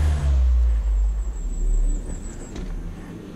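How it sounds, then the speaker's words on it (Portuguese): Steady engine drone with a deep rumbling low end, motorcycles revving at a distance, continuous and fairly loud with no talking. "são motos à distância."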